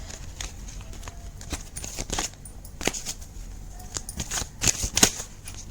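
Tarot cards being shuffled by hand, soft quiet riffles and flicks of card stock in short irregular bursts with occasional sharper snaps, close up.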